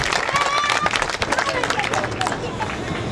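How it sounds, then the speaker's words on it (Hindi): A crowd claps loudly and steadily at a lively welcome rally for Naveen Goyal in Sector-12, Gurugram, with dense applause and some chatter filling the whole stretch. "सबके लिए जोरदार ताली बजा दें"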